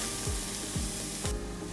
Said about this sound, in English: So to start with, I'm just going to pop in the onions.